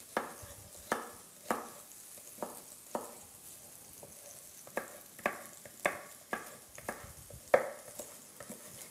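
Pumpkin frying with onion in a pan, heard as a soft, steady sizzle with repeated scraping, stirring strokes at an irregular rhythm, close by and fairly quiet, with no talking.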